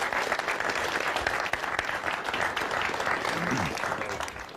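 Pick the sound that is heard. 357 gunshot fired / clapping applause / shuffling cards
clapping applause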